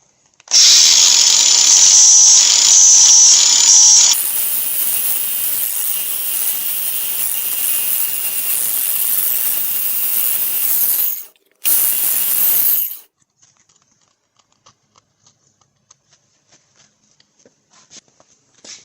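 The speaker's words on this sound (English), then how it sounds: "So to smooth that off so they're not sharp, I use a little flapping wheel." A grinder fitted with a small flap wheel smooths sharp edges on steel pieces, a loud high whine that drops in pitch under load, cuts off briefly, spins again, then stops into near silence.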